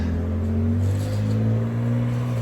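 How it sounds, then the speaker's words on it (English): A 2010 Ford Fusion Sport AWD engine with a Borla exhaust hums steadily with a deep, rumbling tone, climbing slightly in pitch as if revving gently; no voices. "Still a good sounding car"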